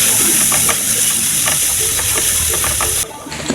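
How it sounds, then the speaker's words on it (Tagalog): Garlic and onion with a little ginger sautéing in a hot pan, a loud close sizzle with intermittent stirring scrapes, briefly easing near the end. "gisayin muna natin yung ating bawang sibuyas. At merong konting luya yan."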